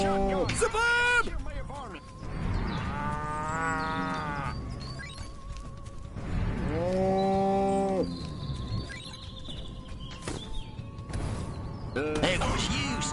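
Cartoonish cows from the video game Destroy All Humans! Remake moo in long, loud, wavering calls, repeated several times, mixed with game voices and effects.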